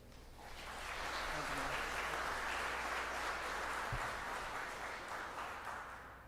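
An audience at an Arkansas food bank event applauds to welcome Governor Sanders, the steady clapping swelling within the first second and holding as a dense, even wash before easing slightly at the end.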